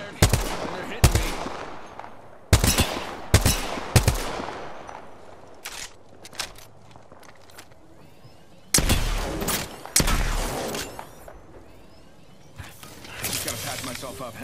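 Sharp, loud gunshots from a Peacekeeper shotgun and G7 rifle in the video game Apex Legends, fired in spaced single blasts and short clusters with echoing tails, players talking between them.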